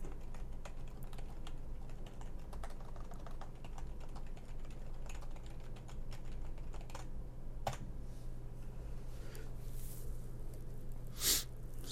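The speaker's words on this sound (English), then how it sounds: "I'll move this over here so I can type in here." Typing on a computer keyboard while configuring a router: a steady run of close key clicks over a low electrical hum, with a couple of louder taps and no speech.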